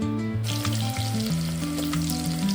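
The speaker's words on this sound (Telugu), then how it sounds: "ఆ కాగిన ఆయిల్లో పచ్చిమిర్చి ఆనియన్స్ని వేసుకోండి" Green chillies and onions frying in hot oil in a clay pot for chicken curry, a continuous sizzle beneath a low, steady tonal hum, close and even, with no voices.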